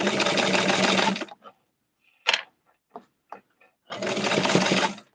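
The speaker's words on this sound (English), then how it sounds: "I'm sewing it" A sewing machine stitching a doll's bathing suit runs in two steady, buzzing bursts, separated by a quiet gap holding a few small clicks and taps, the motor close and fairly loud.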